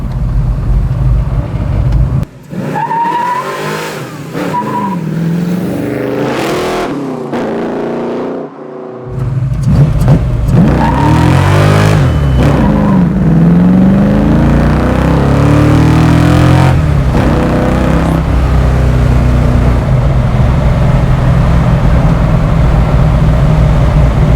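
A 1969 Ford Mustang Fastback restomod with a 347 stroker V8 and five-speed pulls hard in second gear, its loud, steady engine drone building continuously from inside the car after a brief lull, with people talking over it.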